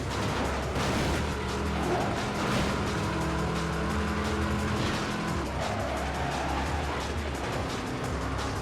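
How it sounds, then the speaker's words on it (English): A blue Ferrari in the racing game Midnight Club 3 drives past with a steady, loud engine roar that holds at a constant level throughout, with no talking. "Whoa, blue Ferrari out of nowhere."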